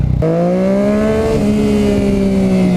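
A 2015 Yamaha FZ-09 motorcycle engine pulls hard in first gear, its loud, steady rising drone starting abruptly and holding close for nearly three seconds with no voices over it.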